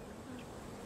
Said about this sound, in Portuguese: E então, surgiram as abelhas